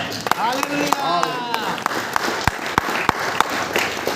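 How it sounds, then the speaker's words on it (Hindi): A church congregation claps hands in time during Bible teaching, sharp rhythmic claps spaced through the stretch while a voice talks over them. "फिर ताली बजाओ"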